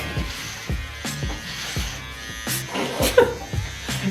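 Buzzing electric hair trimmer running close by in short repeated passes cutting hair, with a few sharp bursts and scraping sounds.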